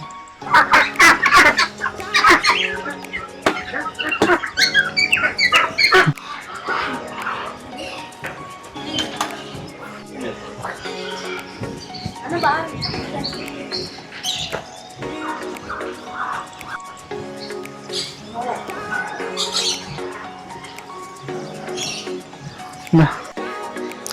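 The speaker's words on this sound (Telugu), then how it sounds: "లోపలికి ఎంట్రీ అవ్వగానే మొత్తం పక్షుల సౌండ్సే వినిపిస్తాయి." Many birds call and squawk loudly and repeatedly in a bird park in Hyderabad, overlapping one another, with people talking nearby in between.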